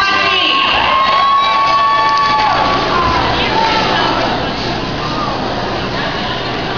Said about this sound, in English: There's people clapping their hands.